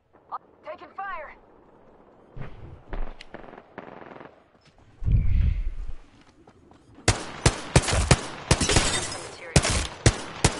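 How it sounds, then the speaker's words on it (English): Bursts of rapid gunfire from a battle royale video game, sharp and close in the final few seconds after scattered quieter game sounds, with a player talking between shots. "Taking fire."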